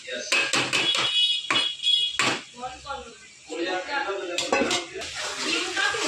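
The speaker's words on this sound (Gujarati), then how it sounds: "રીંગણા બધા શેકેલા નાખી દીધા તપેલીમાં ને હવે આપણે એને મિક્સ કરી" Roasted eggplant stirred in a cooking pot, with rapid metallic clanks and scrapes against the pot in quick irregular bursts, and a voice talking partway through.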